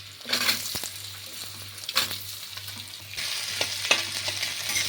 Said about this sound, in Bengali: যে আলুগুলো কেটে রেখেছিলাম সেগুলো দিয়ে দিচ্ছি। সামান্য একটু ভাজতে হবে।